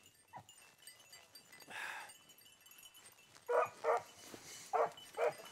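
Hunting dogs on a rabbit hunt bark and yip after catching a rabbit, a run of four or five sharp, fairly close barks in quick succession near the end, following fainter whimpers and rustling.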